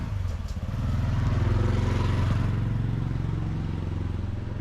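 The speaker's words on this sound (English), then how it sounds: "The occasional motorbike heading up to the temple." A lone motorbike rides up the road toward a temple in the quiet village of Mae Kam Pong in Thailand, its small engine puttering steadily at moderate distance.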